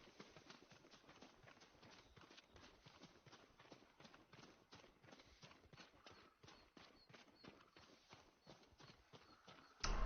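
Rapid, steady hoofbeats of a galloping horse in Ghost of Tsushima run throughout, a dense continuous clatter close by, ending in a brief louder burst.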